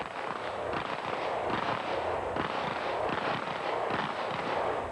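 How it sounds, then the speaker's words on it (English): Dense, continuous gunfire at the 1984 Bianchi Cup pistol shooting competition during the Barricade event, with overlapping loud reports cracking in rapid succession and echoing throughout, and no talk. "The Barricade event, where contestants shoot from behind a standing obstacle."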